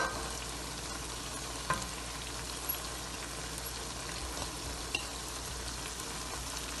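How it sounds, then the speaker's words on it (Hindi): Onion frying in a pan for qeema kachnaar, a steady soft sizzle running throughout with a couple of faint clinks, fairly quiet and with no talking. "अब इसमें हम प्याज डालेंगे"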